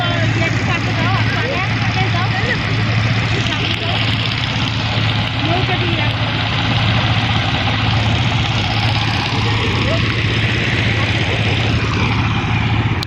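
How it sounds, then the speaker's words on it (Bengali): A trawler boat chugging along a river with a steady, loud low engine drone throughout, and someone talking over it. "এই যে আপনারা দেখতে পাচ্ছেন একটা ট্রলার যাচ্ছে"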